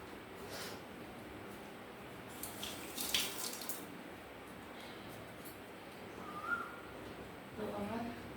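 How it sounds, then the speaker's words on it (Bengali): A kitchen tap runs steadily while hands are washed, a soft even water hiss at low level with a few splashes and clinks, and a voice heard faintly. "হাতটা একটু ধুয়ে নিই"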